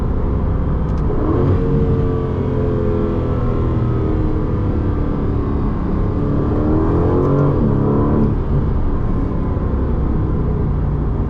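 An Aston Martin engine pulls hard and loud from inside the cabin in track mode, the exhaust note rising through the revs, easing, then climbing again, with no talking.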